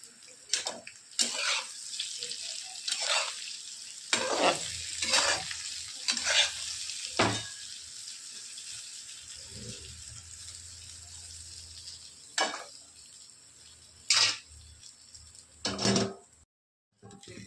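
Sliced okra stir-fries in a pan, with a steady hiss of frying broken by repeated scraping and stirring strokes that come in irregular clusters, then pauses and brief quiet gaps.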